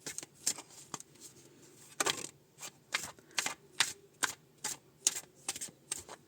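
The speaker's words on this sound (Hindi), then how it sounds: "थोड़ा सा और शफल" Tarot cards are riffled and shuffled in repeated crisp bursts, about a dozen quick flutters close up, with no talking.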